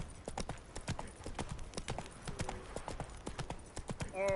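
Steady clip-clop of horse hooves from The Witcher 3, a brisk rhythmic trot of many close, even hoofbeats over a faint game ambience, with a short tonal sound near the end.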